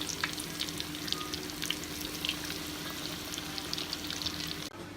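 Breaded chicken deep frying in hot oil gives a steady, dense sizzle with fine crackling pops throughout, cutting off abruptly near the end.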